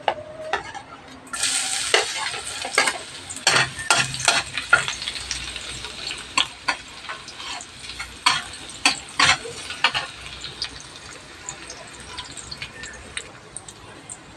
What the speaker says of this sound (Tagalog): At yan po ay magigisa na po tayo ng bawang sibuyas at saka luya.